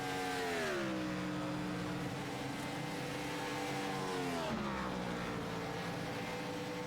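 Race car number 89 runs an installation lap, its engine droning steadily with a pitch that falls and settles, then drops again, heard at moderate distance over constant background noise.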